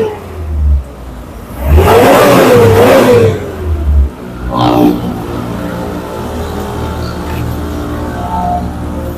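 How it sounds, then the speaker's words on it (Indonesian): A 1992 Suzuki Futura pickup engine idling and being revved in a couple of short bursts, a steady mid-pitched running note with a louder surge near the start, close by and without talk. "Mesinnya sudah kita hidupkan"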